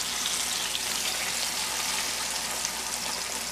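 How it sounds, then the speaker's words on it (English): A large duck fries in a hot pan, giving a steady, close hiss and crackle of sizzling fat that runs evenly without pause. "We'll fry it on the side a little bit."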